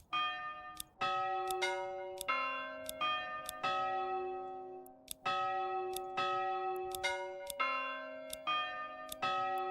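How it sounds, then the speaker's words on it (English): A church bell in the video game Manor Lords rings repeatedly in a steady rhythm, each clear metallic strike ringing out and overlapping the last, loud and close with no talking. "Church bell sound."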